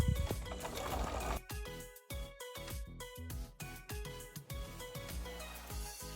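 A sewing machine stitches a row of sample stitches, its rapid needle chatter running in bursts with short pauses and mechanical clicks between runs, close and clear with no talking.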